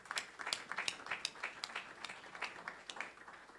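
Scattered clapping from a small audience for a panel and moderator, fairly quiet and uneven, with individual claps standing out over about three seconds.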